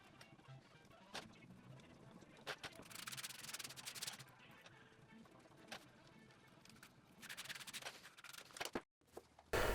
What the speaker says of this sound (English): After that dried, I could sand it off